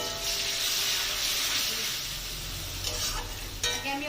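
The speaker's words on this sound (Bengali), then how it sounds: "পেঁয়াজটাকে হালকা করে ভেজে নিতে হবে" Onions sizzle and fry in hot oil in a pan while being stirred, cooking for a Bengali crab malai curry; a steady close hiss with a few scraping stir sounds toward the end.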